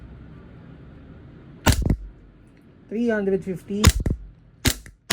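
A WE G-Force gas blowback airsoft pistol fires three sharp, close cracks spaced about a second apart, and a voice speaks briefly between the shots.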